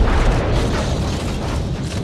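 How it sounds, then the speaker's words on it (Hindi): A grenade explodes inside a bathroom in a movie scene, a loud, dense rumbling blast that fills the whole stretch with heavy low roar and no voices. "जब एरिक्सन बाथरूम में जाता है तब वो बाथरूम में ग्रेनेड डाल देते हैं,"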